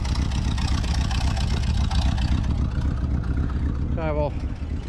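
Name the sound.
1978 GMC truck engine idling with exhaust leak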